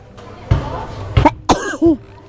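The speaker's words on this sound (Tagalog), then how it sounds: "Inuubo-ubo lang." Several short harsh coughs in a row from an ill elderly woman, close and loud, with a voice murmuring faintly in the background between them.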